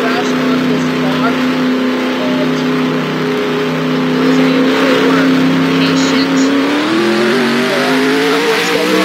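A car engine revs hard and steadily in the Just Daytona racing video game, a loud sustained tonal drone that climbs in pitch near the middle, with a voice talking faintly underneath.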